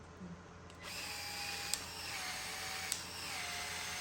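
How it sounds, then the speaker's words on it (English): A PEX-A expansion tool works on the end of a 1/2 inch pipe fitted with a sleeve, giving a steady close motor whine with two short sharp clicks as the head expands. "You want to expand the inside of the pipe with that sleeve over it."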